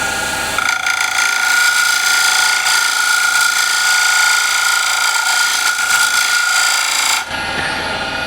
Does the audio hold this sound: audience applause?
no